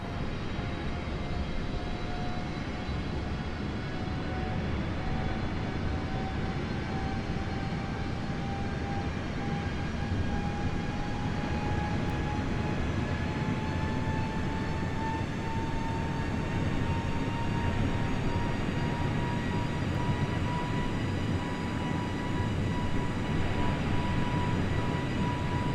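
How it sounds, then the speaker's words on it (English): Airliner engines in Microsoft Flight Simulator during a climb toward 31,000 feet, a loud, continuous roar with a steady whine that slowly rises in pitch, unbroken and with no voices. "I love the climb phase as the aircraft just goes absolutely skyrocketing up."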